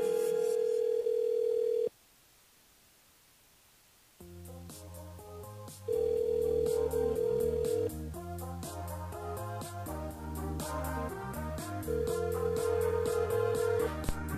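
A telephone line rings unanswered during a radio call-in game, its steady tone coming in repeated long stretches between gaps and layered over background music.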